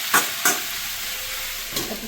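Taro stolons and small crabs stir-fry in a pan with a steady sizzle, broken by a few sharp scraping strokes of a spatula, close and with no one speaking.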